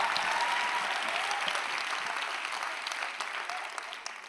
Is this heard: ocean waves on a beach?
no